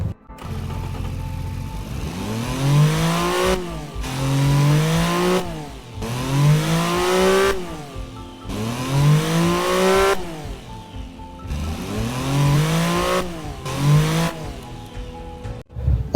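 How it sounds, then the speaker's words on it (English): An economy car engine revs up repeatedly in the game Automation or BeamNG Drive, pitch climbing through gears then dropping, in several loud accelerating runs with short gaps between. "I selected an engine, let's see how it sounds. It's an economy engine."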